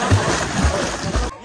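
Water splashes repeatedly as someone wades further into deepening water during a picnic outing, loud close sloshing bursts in an uneven rhythm, with voices in the background.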